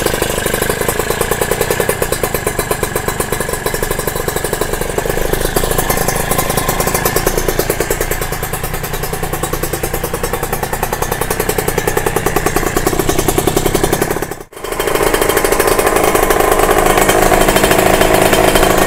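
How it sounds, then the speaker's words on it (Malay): A Kawasaki RR two-stroke motorcycle with a new cylinder block runs with a loud, rapid, buzzing engine note, held steady and close, briefly cutting out near the end before resuming at a higher pitch, with no talk over it. "Lepas tu kita start motor."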